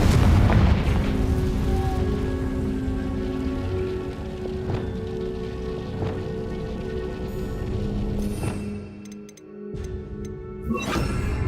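A Confringo blasting spell explodes in Hogwarts Legacy with a loud booming burst that decays into a long rumbling tail, followed by softer rain-like crackle and scattered impacts.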